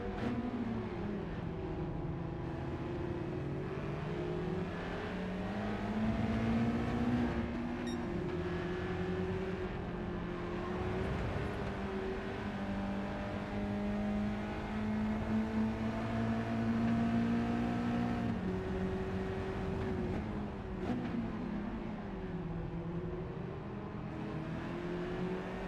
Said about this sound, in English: His car sounds ever so raspy.